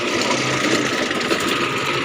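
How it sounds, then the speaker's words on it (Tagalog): A small tractor engine runs at a steady idle-like drone, loud and close, with an even mechanical rattle throughout and no voices. "Tawag diri mga ay, traktora nga gamay."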